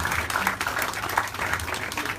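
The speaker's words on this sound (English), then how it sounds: "I think we can give them a big round of applause." Brief round of applause from a group gathered at an outdoor meeting between Yellow Vest protesters and American tourists in Rouen, dense clapping that is fairly close and steady for a couple of seconds.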